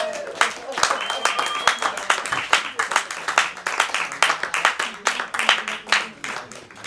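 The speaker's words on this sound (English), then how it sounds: "So give yourselves a round of applause." A small crowd at a live music show at the Denman Island Guesthouse claps in a scattered, sharp rhythm, individual hand claps distinct and fairly close, with a faint voice or whoop mixed in.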